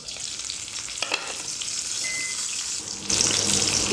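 Tandoori chicken cooking in a kadai on a low gas flame, a soft continuous hiss and sizzle with a few stirring clatters, swelling louder near the end, no voices.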